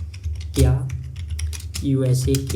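Typing on a computer keyboard while entering a search query into Google Gemini, with rapid key clicks running under Hindi speech throughout.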